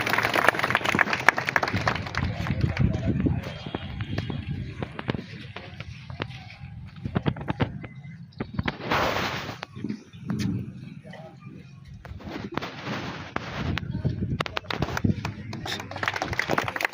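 An audience claps at a ceremony unveiling a statue of Sardar Vallabhbhai Patel, producing dense, sustained applause that swells and eases in waves, with voices mixed in around it.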